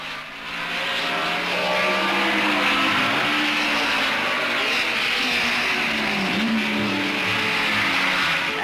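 Race cars at the Dutch Grand Prix in a steady, continuous engine drone with rising and falling pitch as cars pass, moderately distant, no talking.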